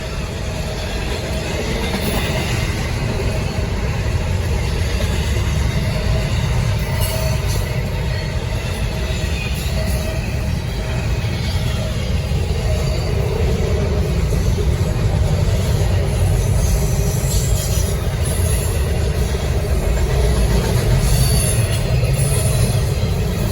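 A Norfolk Southern freight train, 24X, passes northbound on the Charlotte District with a steady, loud, continuous rumble of rolling cars and wheels, plus faint intermittent squeals and clatter throughout.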